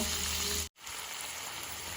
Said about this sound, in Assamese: এতিয়া আমি এইদৰে অলপ দেৰি ভাজিলোঁ, 1-2 মিনিটমান